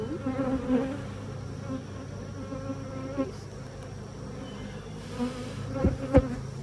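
Honey bees buzz around an opened beehive in a dense, continuous hum that stays close and fairly quiet, with a few sharp knocks and clicks of hive handling toward the end.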